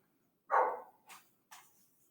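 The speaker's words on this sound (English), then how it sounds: "where is that dog?" A dog barks once loudly and close, followed by two fainter, shorter yaps, with no voices over them.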